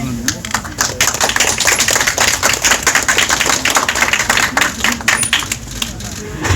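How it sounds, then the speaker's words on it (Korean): A crowd at a political campaign event claps steadily in a dense burst of applause, close and loud, lasting several seconds. "박수로 시작하도록 하겠습니다"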